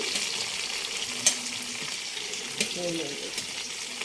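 Shallots, curry leaves and ginger frying in a pan for pappada chammanthi, giving a steady, moderate sizzle with a few sharp clicks of stirring throughout and no talk.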